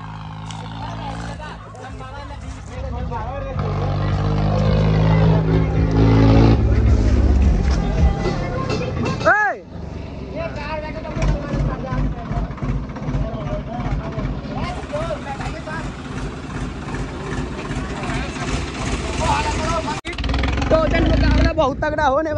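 Heavy engines of two Swaraj 855 tractors rumble and roar continuously at a tractor tug-of-war, loud and close, while people talk over the din.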